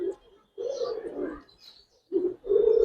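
Pigeons coo close by, in a few short throaty bursts with gaps between them, the last call long and strong.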